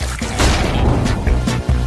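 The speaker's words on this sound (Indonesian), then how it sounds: "Wow, itu ledakan besar." A big, loud blast from a chemistry experiment that goes wrong in a bubble gum versus chocolate food challenge. Dense, booming noise fills the whole two seconds, with sharp cracking bursts standing out near the middle and near the end.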